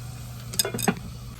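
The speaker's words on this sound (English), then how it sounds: "Stir evenly." Sliced stem lettuce stirred in an oiled pan gives a few quick scraping, clinking strokes against a quiet, low background hum, brief and fairly faint.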